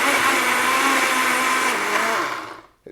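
A kitchen blender whirs loudly and steadily while blending spinach, a continuous motor roar with a slight pitch dip near the end before it cuts out abruptly.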